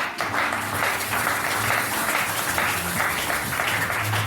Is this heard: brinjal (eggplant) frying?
no